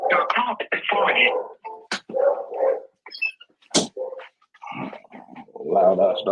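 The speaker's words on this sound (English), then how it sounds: "Loud ass dog." A loud dog barks in repeated bursts mixed with people talking nearby, with sharp short yelps cutting through the voices.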